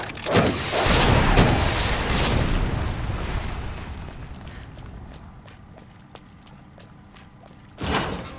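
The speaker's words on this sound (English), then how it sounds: "It's just an explosion." A heavy booming blast in Resident Evil 2 Remake that rolls into a long fading rumble, followed by scattered debris clicks and a second thud near the end.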